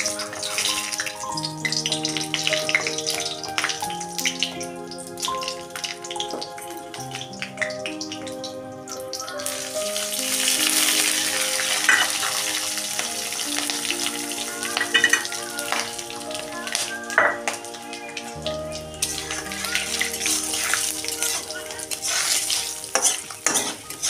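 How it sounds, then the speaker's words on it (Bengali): Dry red chillies, bay leaves, panch phoron and whole garam masala sputter in hot oil in a kadai for a vegetable curry, a continuous hissing sizzle with occasional stirring under steady background music. "এখন কড়াইতে পরিমাণ মতো তেল দিয়েছি। তো এখন ফোড়নে দেব শুকনো লঙ্কা, তেজপাতা"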